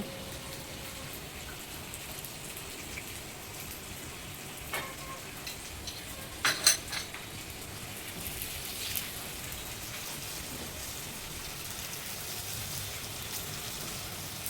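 Spice paste with green chilies and salt fries in a pan with a steady, rain-like sizzle throughout, broken by a few brief stirring clatters near the middle.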